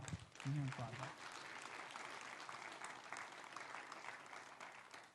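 Audience applause at a church talk, a steady broadband patter of many hands sustained throughout at moderate level, with a brief voice near the start.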